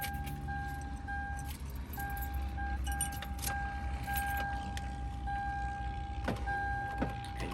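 Power window motor in a Toyota Solara driver door, tested after a regulator replacement, whirs steadily for several seconds up close, with faint clinks and handling noises around it.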